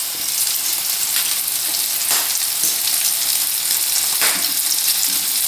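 Bacon and a burger patty fry in a pan with a loud, dense, continuous sizzle up close, with a few brief pops and crackles along the way.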